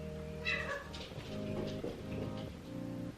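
A pet cat meows in a few drawn-out, tonal calls over a steady background of music, fairly close and clear, with no talking.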